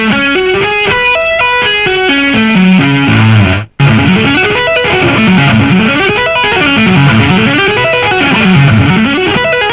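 Slow distorted electric guitar arpeggio played as cascading picked notes at a steady pace, loud and alone with no voice, briefly cutting out about a third of the way through before resuming in repeating rising and falling patterns.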